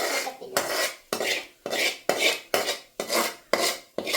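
Fried clam meat is scraped and spooned from a pan into a vessel. A metal utensil strikes the pot in about eight sharp, regular clanks, each trailing into a short scraping ring, close by and with no talking.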